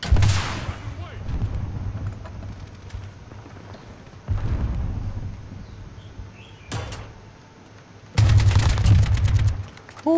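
Loud bursts of gunfire from a weapon in Call of Duty: Modern Warfare (2019 beta), striking at the start, around four seconds and again near eight seconds, with low booming impacts and quieter game ambience between.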